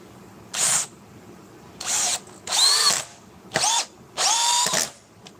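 A long power drill with hammer function, run in five short bursts of about half a second each with pauses between, loud and close, whining as it spins up and down.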